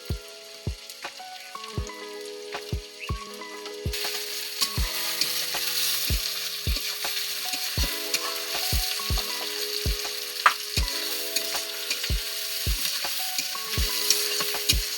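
Turmeric and chilli fry in a pan for a home-style chicken curry, making a continuous sizzle that grows louder partway through. It sits beneath rhythmic background music with regular beats, and no one speaks.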